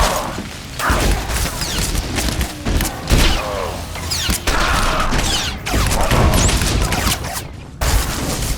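Blaster gunfire fills a Star Wars: The Old Republic battle, a loud, dense barrage of rapid shots, booms and crashes with a few brief gaps throughout.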